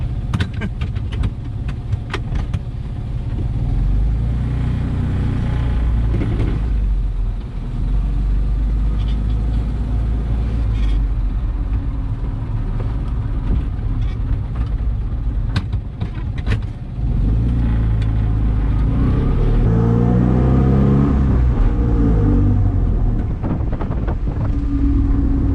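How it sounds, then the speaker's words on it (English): A classic Fiat 500 engine runs with a low, steady rumble under wind buffeting on the microphone, and a neighbor's lawnmower drones nearby with a similar sound. "If the engine sounds a little bit weird, it's because our neighbor is running his lawnmower and they sound very similar."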